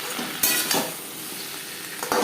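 Pangas fish curry with potatoes being stirred in a pan, with soft continuous scraping and a faint background sizzle, plus a few sharper utensil knocks against the pan.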